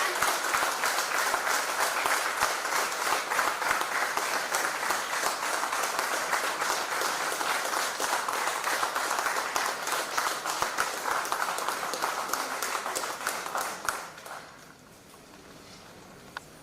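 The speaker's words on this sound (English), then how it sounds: "Please help me welcome our dear CMD with a round of applause once again" Dense applause from a large crowd claps steadily for about fourteen seconds, then quickly dies away into quiet room noise.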